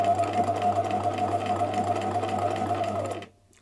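A freshly cleaned and oiled sewing machine runs smoothly, its steady close whirr of stitching lasting about three seconds before it stops abruptly into quiet.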